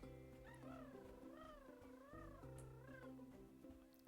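A cat caterwauls in long, wavering, drawn-out meows, quite faint in the background but continuous and clear with no talking.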